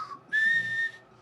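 A person whistles a single clear, sustained note that rises slightly in pitch, preceded by a brief softer tone, alone and close.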